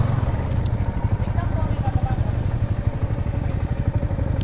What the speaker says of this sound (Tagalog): Okay, so kami papanik namin yung motor namin sa itaas.